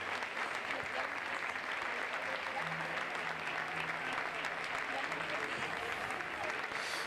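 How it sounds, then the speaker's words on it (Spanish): A stadium crowd at a Linares Deportivo football match gives a minute of applause in memory of Fran Carles, a steady, distant wash of clapping that holds evenly throughout, with a faint low hum underneath. "un minuto de aplausos en recuerdo y memoria"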